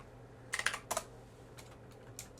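Computer keyboard keys are pressed in Blender, with two quick clusters of clicks followed by a few fainter, scattered taps against a quiet background.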